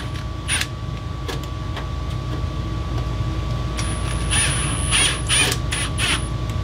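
A power drill drives a half inch screw into sheet metal during a bathroom fan install, giving a steady hum with short bursts of grinding and a high whine as the screw bites, close and fairly loud.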